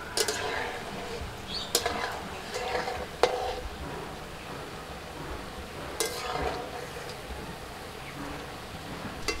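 Tal korom (palm fruit) pitha frying in hot oil, a steady soft sizzle and bubbling with a few sharp clinks of a utensil against the pan, fairly close.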